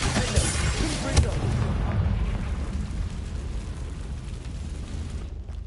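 A Confringo spell explosion in Hogwarts Legacy on PS5: a booming blast with sharp pops early on, then a long rumbling roar that slowly fades away.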